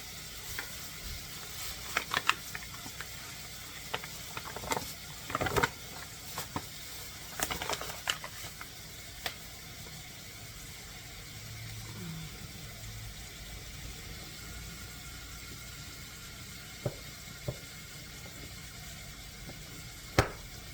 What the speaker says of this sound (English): So you're going to saute it very nicely.